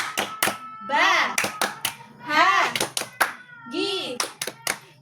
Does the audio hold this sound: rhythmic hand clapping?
yes